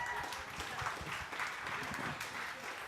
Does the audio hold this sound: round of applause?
yes